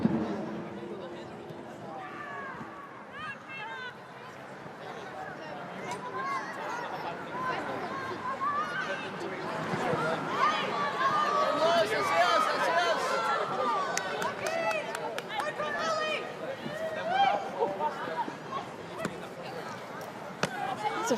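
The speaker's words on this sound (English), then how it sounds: "More optimistic Mariners fans, still appealing for it in the crowd though, of course." Central Coast Mariners fans in the crowd at an A-League football match against Newcastle Jets, a broad murmur of voices that swells in the middle and stays up, with commentary over the top.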